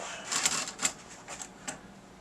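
A 1963 Royal FP manual typewriter being typed on: a short run of crisp, close mechanical key strikes, uneven in rhythm, a handful of clacks fading out toward the end, with no voices.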